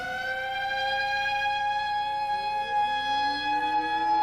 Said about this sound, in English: The sirens were going.